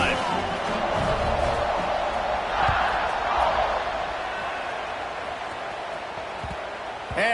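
A college football stadium crowd roars in a broad, steady wash of cheering after a long scoring drive, sustained and distant, with a commentator's voice talking over it.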